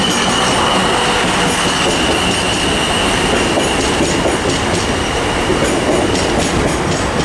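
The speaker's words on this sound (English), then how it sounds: "arriving now is a 1224 South Western Railway service to Weymouth" A South Western Railway class 444 unit, 444018, pulls into Southampton Central as the 12:24 service to Weymouth: a loud, steady rail rumble with a thin wheel squeal running throughout and no voices.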